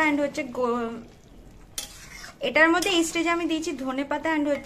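New potato curry (aloo dum) is stirred and fried in a kadai, with soft scraping and sizzling underneath someone talking almost throughout.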